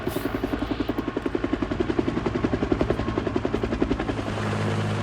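Helicopter carrying a transmission tower piece beats overhead with a fast, steady rotor chop, fairly near, the pulsing fading into a smoother drone at the end.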